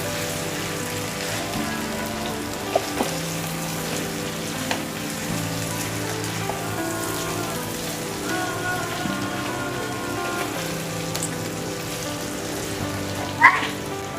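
Fried sea fish stirred in a pan with taro stolons gives a continuous crackling sizzle with scattered sharp ticks and a few louder clinks, steady and close throughout.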